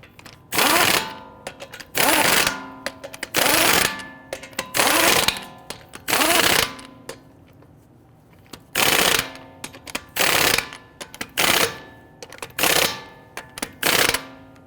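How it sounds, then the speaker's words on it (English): Lug nuts on a Dodge Charger front wheel are run down with a power tool in a string of loud, sharp mechanical bursts, each about a second long, separated by short pauses and with no talking. "We want to go ahead and get all of our lug nuts started by hand, and then we'll snug them down."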